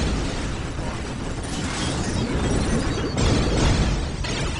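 Explosions rumble in the Warhammer 40,000: Dawn of War - Dark Crusade strategy game, a loud, dense blast with crackling debris and a second boom surging about three seconds in over continuous battle noise.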